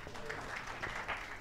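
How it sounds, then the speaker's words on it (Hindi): A short stretch of scattered clapping from a small audience at an Urdu poetry gathering, fairly soft and steady, with no one speaking. "ज़ोरदार तालियां बजाइए इनके लिए।"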